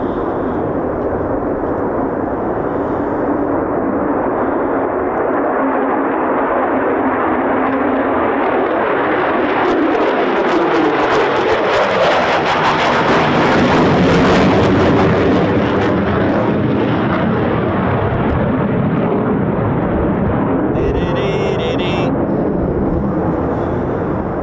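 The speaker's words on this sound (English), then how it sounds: "Here comes our single F-35." An F-35 fighter jet passes over RAF Lakenheath, its loud broad roar building to a peak and then sliding away as it flies by.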